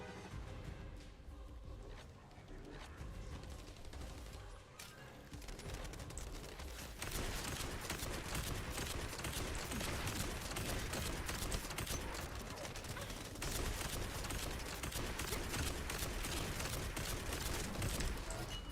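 Rapid automatic fire from a weapon in the sci-fi looter shooter The First Descendant, a continuous, dense stream of shots that grows louder and steadier partway through, with game effects mixed in.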